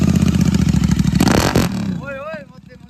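A Royal Enfield GT650 motorcycle fitted with a Red Rooster aftermarket exhaust revs hard and loud up close, its throaty roar rising and then dropping away, with voices talking over the fading engine.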